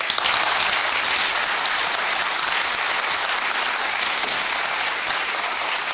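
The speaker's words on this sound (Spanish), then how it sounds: "Un aplauso para el ministro." A television studio audience bursts into loud, sustained applause for a government minister arriving for an interview, dense clapping that stays strong and even for several seconds with no talking.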